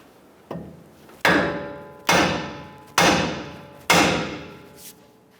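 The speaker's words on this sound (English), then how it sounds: "we're going to use our hammer and we're going to strike this part of our knuckle" A hammer strikes the steering knuckle of a 2011–2018 Ram 1500 to pop the upper ball joint loose: one lighter tap, then four loud, ringing metallic blows about a second apart, each decaying briefly.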